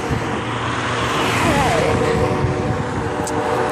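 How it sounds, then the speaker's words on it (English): Road traffic with cars passing along a street a pedestrian walks beside, a steady, fairly loud wash of engine and tyre noise that stays close throughout with no clear gaps. "Let's walk into traffic, guys."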